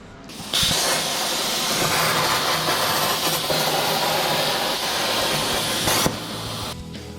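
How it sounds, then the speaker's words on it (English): A traction bar is welded onto a Volkswagen, giving a steady, loud, close hiss and crackle of the welding arc that holds for several seconds and then cuts off abruptly. "just weld it in place on both sides, just like that"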